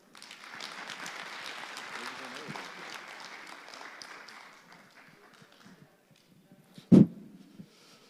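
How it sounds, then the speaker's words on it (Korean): Audience applause greets a nuclear engineering professor invited as lecturer at a talk, a dense crowd clapping for about five seconds before fading out, followed by a sharp thump near the end. "우리 강사님에게 큰 박수 부탁드립니다"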